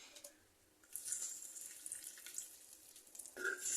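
Tamarind water is poured into a cooking gravy, a soft, faint splashing trickle that swells after a quiet start and runs on to the end.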